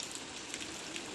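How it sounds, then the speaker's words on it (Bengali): Rain that has fallen since the previous afternoon drips onto a balcony and its potted plants, a faint, even hiss of drops with no speech. "কাল থেকে দুপুর থেকে বৃষ্টি শুরু হয়েছে।"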